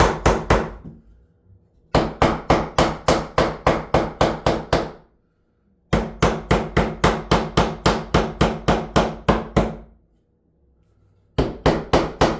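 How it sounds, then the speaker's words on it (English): Hammer blows drive kitchen wall framing lumber into place, delivered in rapid bursts of about a dozen sharp, evenly spaced strikes separated by short pauses, loud and close with no talk. "I'm just going to finish hammering it into place here."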